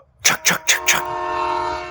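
A train horn gives four quick, loud honks, then a sustained tone holds while the train rumbles past nearby.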